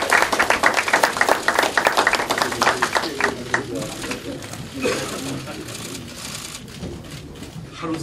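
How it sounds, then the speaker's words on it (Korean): Applause rises from the audience at a Democratic United Party emergency committee meeting, loud and rapid for the first few seconds, then thins out into scattered claps under people talking. "다시 한번 큰 박수 부탁드리겠습니다."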